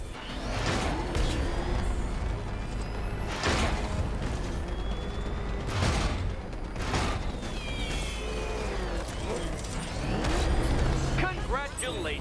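Car driving in Batman: Arkham Knight, an engine revving and rumbling with mechanical clunks and skids, heard under voices talking throughout.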